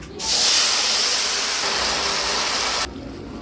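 Whole dried red chilies and five-spice seeds dropped into hot potato-frying oil, a sudden loud hiss that holds steady for nearly three seconds and then cuts off abruptly, close up.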